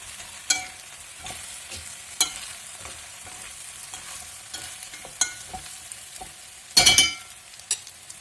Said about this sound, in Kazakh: Енді араластырамыз. Жақсы араластырыңыздар. Қуырып аласыздар гречканы.